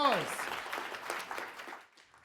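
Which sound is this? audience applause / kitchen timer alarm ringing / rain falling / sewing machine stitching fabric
audience applause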